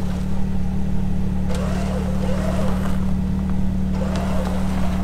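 A car's engine revs under light throttle while the driver works it out of a deep hole, a steady low drone with gentle swells as gas is added and eased off, heard close and continuous.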